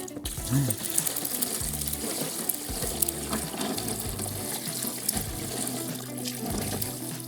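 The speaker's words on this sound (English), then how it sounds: "we're just going to put a little bit of water to help fill the gaps in the funnel" Water pours and trickles steadily over ice into a funnel of a DIY air conditioner, with a gurgling, splashing texture throughout and faint background noise.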